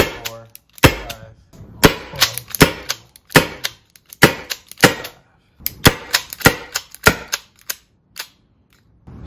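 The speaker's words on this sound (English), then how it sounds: "So that's 28 shots we got off total, with the last 3 shots being the weakest." Byrna SD 2021 launcher fires a long run of sharp, loud cracks in uneven groups of a few shots each, close by, with brief pauses between bursts and no talking.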